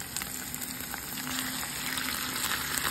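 Thin-sliced beef, samgyupsal-style cut, frying in a pan with onion, leeks and garlic for a Filipino beef and broccoli stir fry, a steady broad sizzle close up with no talk.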